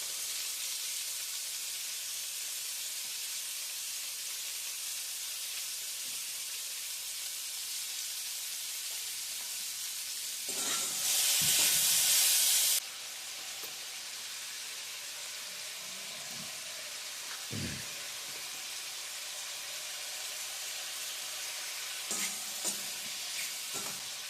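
Saltfish sizzles and fries in a pan while ackee and saltfish are cooked, a steady close hiss running throughout, with a louder burst of sizzling partway through and a few light clanks.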